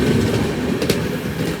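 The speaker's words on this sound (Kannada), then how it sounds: "ಮೈಸೂರು ವಾರಣಾಸಿ ಎಕ್ಸ್ಪ್ರೆಸ್ ಕ್ರಾಸ್ ಆಗತ್ತದ ನಮಗೀಗ." The Mysore–Varanasi Express passes close by at a station in the Kalaburagi section, a loud continuous roar of rolling wheels and carriages with a brief rattling clatter partway through.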